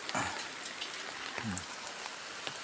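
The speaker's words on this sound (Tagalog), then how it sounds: "Nag-uulan-ulan pa nga." Light rain falling near a flooded creek during fishing, a continuous soft hiss and patter of drops, with a couple of brief faint vocal sounds over it.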